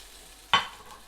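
Steaks frying in a hot pan give two brief, loud bursts of sizzling, each flaring up sharply and fading, with no talk.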